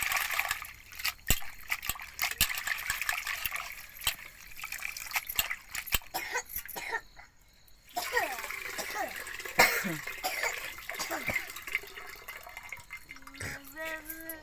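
Water sloshes and splashes in short bursts with scattered drips and clicks as green chillies are rinsed by hand, with a voice speaking and a cough.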